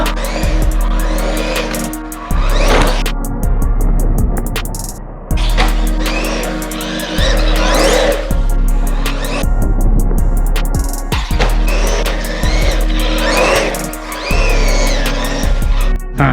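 A Haiboxing 168889 1/16-scale RC monster truck slides around a garage floor, its electric motor whining in repeated bursts with scrabbling tire noise, loud and close, with brief pauses between runs.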